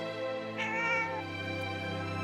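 A cat meows in a single drawn-out, clear call heard up close in a hallway, the tone rising and then sustained with steady harmonics and no talking over it.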